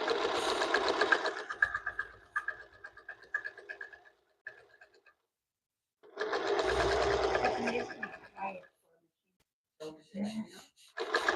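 A Featherweight sewing machine stitches quilt binding in two bursts of fast, steady whirring chatter, close by, separated by pauses, with someone talking quietly during and between the runs.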